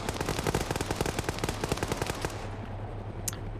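Sustained machine gun fire in a video game, with close, loud rapid-fire rounds in a steady rhythm for a few seconds before cutting off, leaving a quieter tail.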